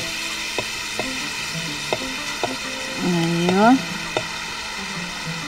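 White rice goes into a hot pot of sautéed vegetables, giving a steady low sizzle with a few light stirring knocks, while a voice speaks briefly.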